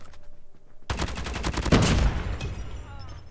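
Rapid automatic gunfire in COD Mobile, a loud sustained burst of evenly spaced shots that starts abruptly after a brief quiet moment and ends with a short trailing tail.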